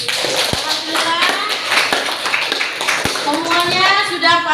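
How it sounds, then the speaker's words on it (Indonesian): A classroom of children clapping together, a burst of quick, uneven applause close by with a few sharp individual claps and young voices chattering over it. "Tepuk tangan untuk kita semua."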